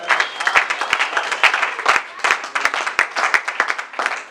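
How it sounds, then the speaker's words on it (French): A church congregation applauding for the glory of God, lively rhythmic clapping from a crowd with sharp individual claps standing out, steady and moderately loud throughout. "Est-ce qu'on peut acclamer pour la gloire de Dieu?"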